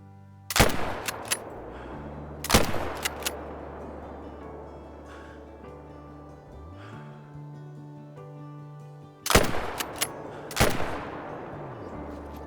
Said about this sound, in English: Should I try and shoot over this doe's back?